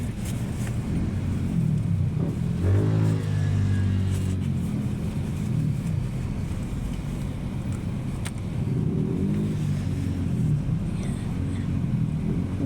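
Slow traffic crawls across a bridge on a bypass road: a constant rumble of car engines close by, with one vehicle's motor rising and passing, heard from inside a vehicle as people talk quietly now and then.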